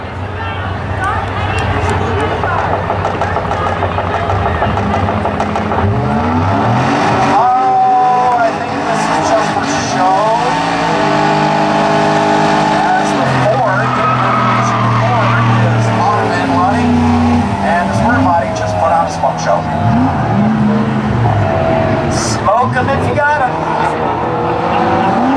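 Race cars roar down a speedway drag strip at a spectator drag event, a Honda and a square-body truck, with engines and tire noise loud throughout under continuous announcer talk and crowd.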